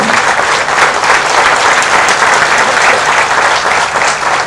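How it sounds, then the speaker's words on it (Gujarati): An audience gives a loud, sustained round of applause at a talk, dense clapping filling the whole stretch, close and even in level. "HR હળિયા સાહેબને જોરદાર તાળીથી વધાવીએ"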